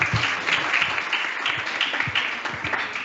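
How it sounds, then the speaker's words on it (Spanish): A warm round of audience applause fills a lecture hall after a talk on patient safety and quality of care: dense, steady clapping from many hands, sustained and fairly close throughout. "Un aplauso, por favor, cálido aplauso."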